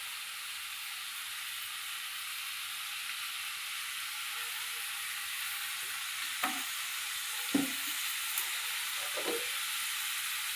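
Bottle gourd chutney with raw mustard oil being stirred in a pan: a steady broad hiss of cooking fills the background while a few soft scrapes and knocks of the spoon land near the end, with no voices.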